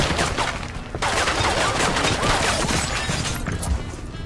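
Dense, rapid gunfire rattles in Ghost Recon Wildlands, loud and close, with overlapping bursts and sharp cracks running continuously across a firefight.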